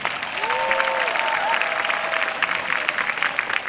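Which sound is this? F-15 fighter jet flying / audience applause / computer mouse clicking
audience applause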